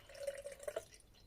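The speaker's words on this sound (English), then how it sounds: "I'm going to pour the tap water in here to" Tap water trickles into the tank of a clothes steamer, a brief, faint splashing pour lasting about a second.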